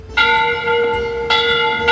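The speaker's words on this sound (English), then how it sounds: "more questions present themselves when a loud friggin' bell goes off." A loud bell in a 1961 film rings out in two strong strikes, each leaving a long, steady metallic hum that sustains between blows, close and clear with no talk.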